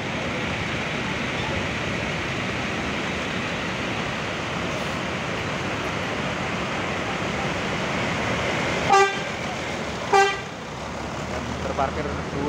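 Busy Purabaya Bungurasih bus terminal on a holiday, with a constant wash of idling bus engines and crowd noise and two clear horn toots near the end, plus a faint later honk.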